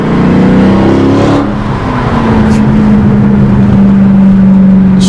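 A 2019 Dodge Challenger Scat Pack widebody drives along, its engine a loud, steady low drone heard from inside the car, briefly easing before settling into a constant hum.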